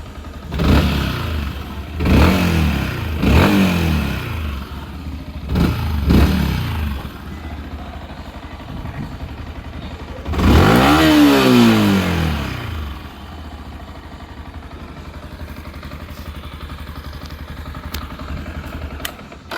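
A Yamaha WR155R motorcycle engine revs up close in a series of sharp throttle blips, then one longer rev that climbs and falls, before settling back to a steady idle; no speech.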